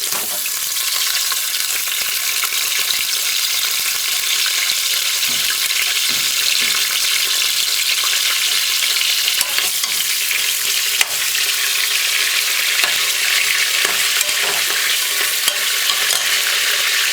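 Seasoning fries in about a quarter cup of hot oil for an oxtail and broad bean dish, with a loud, steady hiss and sizzle and scraping stirs throughout.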